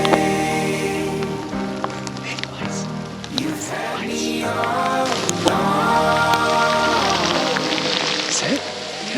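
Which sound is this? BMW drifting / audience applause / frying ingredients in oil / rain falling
rain falling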